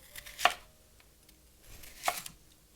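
A kitchen knife cuts through radish into slices about half a centimetre thick, two crisp chops spaced well apart, close and clear against a quiet room.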